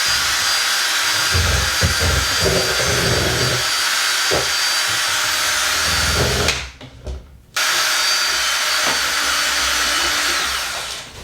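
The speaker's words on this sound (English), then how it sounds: "I'm just going to use this drill attachment to mix this up." A power drill with a mixing attachment whirring steadily as it mixes ceiling paint, loud and continuous, cutting out briefly as the drill dies before starting up again.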